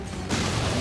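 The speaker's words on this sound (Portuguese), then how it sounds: "Ah, explodiu." A sudden loud, broad blast bursts in midway through Resident Evil Revelations gameplay, an in-game explosion that swells into a dense rumbling roar and holds steady to the end.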